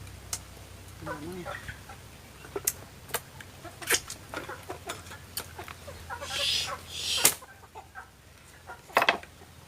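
Chickens on a rural Thai farm scattering clucks and short calls with light pecking and scratching sounds, moderately near, some calls louder and sharper, against a quiet outdoor background.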